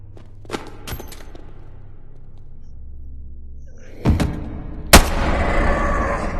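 Tactical 1911 pistol fired in the VR game Bonelab: a low ambient hum gives way to a few sharp thuds and clicks, then two loud gunshot cracks, the second followed by a sustained roar.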